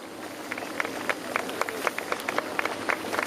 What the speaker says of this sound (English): let's give him a bit of a clap then